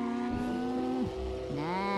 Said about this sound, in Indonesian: Kita akan naik motor teman-teman supaya semakin cepat ya